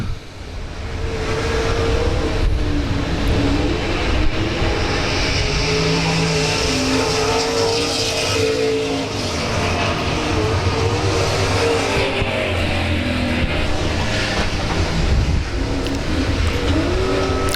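Race cars roaring around South Texas Speedway during a battle for third place, a loud, steady engine drone rising and falling as cars pass, with no talk over it.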